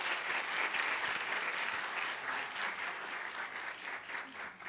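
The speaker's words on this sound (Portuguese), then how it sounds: "Uma salva de palmas." Audience applause at a school violence prevention forum, steady broadband clapping from a crowd lasting nearly five seconds, moderately distant.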